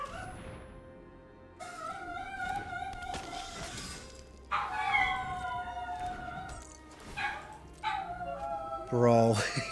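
Dogs barking and yipping in short bursts at middle distance, with someone talking over and between the barks.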